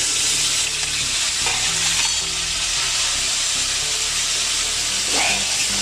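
Ginger paste is stirred into potatoes frying in oil, producing a loud, continuous close-up sizzle with faint scraping from the stirring utensil.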